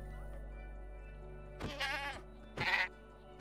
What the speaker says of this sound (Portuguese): Ela tem uma cabra.